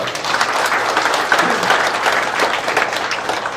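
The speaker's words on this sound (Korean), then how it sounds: "박수 해주십시오" An audience at a school foundation gathering applauds a board member being introduced, a steady, even wash of clapping from many hands that holds for several seconds.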